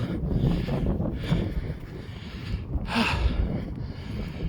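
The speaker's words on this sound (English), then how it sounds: "Damn, it's still pretty windy." Wind buffets the microphone outdoors in a steady low rumble with gusts swelling and easing, loud and close throughout, no voices.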